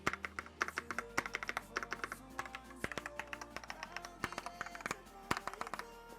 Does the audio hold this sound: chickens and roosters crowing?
no